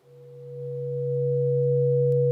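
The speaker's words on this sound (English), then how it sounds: "giving you a digital ring modulation." A steady synthetic electronic tone from digital ring modulation on an Intellijel Shapeshifter synthesizer module, two sustained pitches swelling in from quiet and holding evenly, ending with a brief click.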